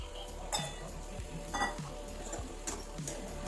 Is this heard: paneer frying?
yes